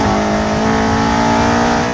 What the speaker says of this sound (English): I've now got the Tegiwa carbon fiber induction kit.